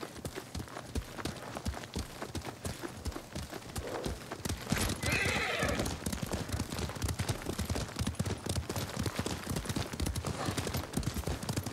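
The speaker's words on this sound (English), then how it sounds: "You ride with your father's horse." Horse in the Ghost of Tsushima video game, with a loud whinny partway through over a steady, continuous clip-clop of hooves at riding pace, plus faint background game sounds.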